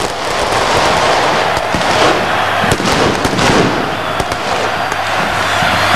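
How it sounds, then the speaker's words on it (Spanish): Fireworks explode over a football stadium at a Racing Club match, a dense continuous barrage of crackling bursts and sharp pops that fills the air loudly for the whole stretch, with a steady roar of crowd and smoke-filled atmosphere beneath. "están los fuegos artificiales"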